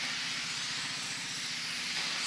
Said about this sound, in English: It's got the same amount of steam, should be coming out of either side,